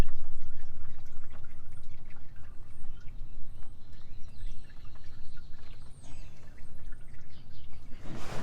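Motor oil pours and drips from the drain of a Dodge RAM 1500 with a 5.7L V8 HEMI during an oil change, a steady close splattering stream that continues throughout.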